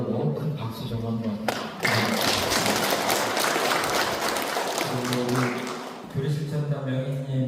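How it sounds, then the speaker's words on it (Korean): Congregation at a Won Buddhist Sunday service breaks into loud, dense applause lasting several seconds, with speech heard just before and as the clapping fades. "훈련 잘하고 오라고 큰 박수 좀 한번"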